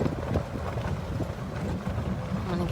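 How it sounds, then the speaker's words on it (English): Strong wind blows steadily outdoors at a big cat rescue sanctuary, a loud broadband rush with heavy low rumbling buffeting the microphone throughout, with no voices heard. "It's so windy."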